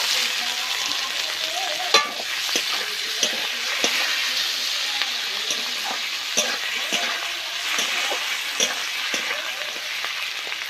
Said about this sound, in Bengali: পেঁয়াজটা ভেজে নিয়েছি অল্প করে, এখন টমেটো কুচি দিয়ে দেব।